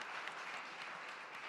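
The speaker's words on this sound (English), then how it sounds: "Let's give them a round of applause, everyone." An audience at a trading conference panel claps steadily, a dense, even patter of many hands heard from a distance, fairly faint and continuous without pauses.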